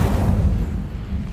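Incendio fire spell cast in the Hogwarts Legacy video game, a loud, dense rumbling whoosh of flame that starts at full strength and holds steady through the short moment with no voices.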